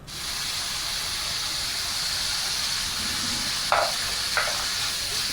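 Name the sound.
vegetables stir-frying on high flame for Hakka noodles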